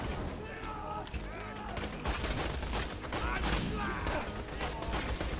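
Dense rapid gunfire in the Borderlands 2 Captain Scarlett DLC, continuous loud bursts with mechanical clatter and game effects, while a voice talks faintly underneath.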